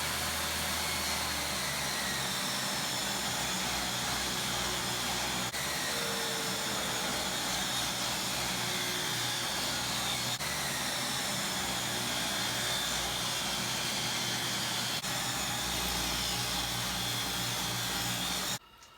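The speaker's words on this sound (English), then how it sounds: "I did 5 or 6 rips there with the vacuum on" Table saw making repeated rip cuts through 5/4 walnut while a dust vacuum runs nonstop, a loud, steady, close motor whine with several faint surges from the cuts, then everything cuts off abruptly at the end.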